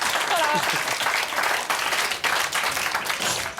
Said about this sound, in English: Ladies and gentlemen, round of applause for Janet Street Porter.